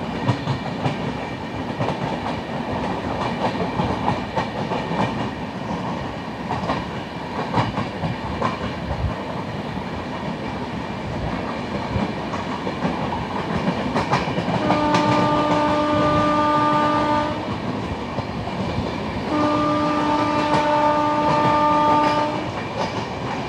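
A train hauled by a WDG4 diesel locomotive of Izzatnagar passes close by with a steady clattering rumble of wagons, and two long loud horn blasts sound near the end.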